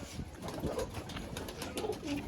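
Soft, low cooing of pigeons, several overlapping coos close by against a murmuring background.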